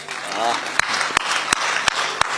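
Audience applause at a speech, a steady wash of clapping with several sharp, louder claps standing out at regular intervals, with a brief voice audible near the start.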